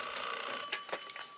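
A telephone bell rings in short, fairly quiet bursts over a steady hiss in a scene from a TV comedy series.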